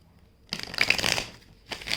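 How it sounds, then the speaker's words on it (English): A deck of cards shuffled nearby, a soft riffling burst lasting under a second followed by a quieter shorter shuffle, with no talk over it. "Shuffle a little bit more."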